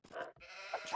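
A sheep in the Age of Empires video game gives a couple of short, nasal bleats in quick succession, close and alone.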